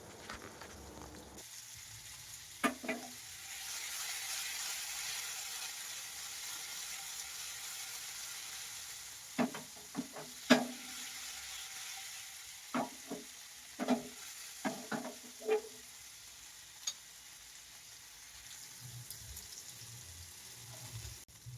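Mini chicken kababs fry quietly in a pan, a low steady sizzle running throughout, broken by a handful of sharp clinks and scrapes from a spatula stirring and turning the pieces.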